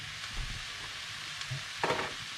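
Cheese is stirred into sizzling cabbage tagliatelle in a pan, a soft, close scraping and mixing over a steady low frying hiss, with one brief louder scrape near the end.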